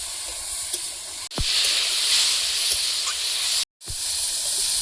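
Chopped vegetables frying in a pan as ridge gourd and potatoes are cooked for a fish curry, a loud steady close hiss and sizzle with a couple of brief breaks where the pan goes quiet.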